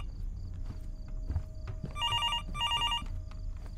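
A telephone rings in a horror video game: two bright trilling bursts of an old-style bell over low ambient rumble and scattered soft thuds, with no talk.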